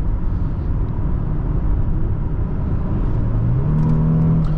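A 2007 Lexus GS350 AWD accelerating hard, a steady engine drone inside the cabin that rises in pitch near the end as it downshifts and pulls, no talk.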